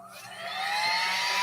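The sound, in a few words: heat gun drying bleached, painted denim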